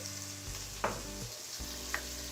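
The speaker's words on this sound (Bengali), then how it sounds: "এখন এই আদা রসুনের পেস্টটাকেও আমি হালকা ভেজে নেব" Ginger-garlic paste and chopped tomato fry in a pan with a loud close sizzle, broken by brief scraping stirs as a spoon moves the mixture, over a low steady hum.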